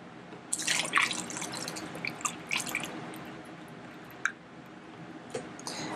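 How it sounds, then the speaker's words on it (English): A spray bottle is topped up with water, producing a trickling, splashing pour early on followed by scattered drips and small knocks, close and soft. "Then I'll just fill up the bottle the rest of the way with water."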